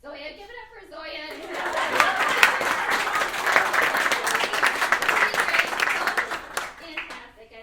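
Audience at a stand-up comedy show breaks into sustained applause after a brief spoken introduction, dense clapping swelling and holding steady before tapering off near the end, with some cheering and chatter mixed in.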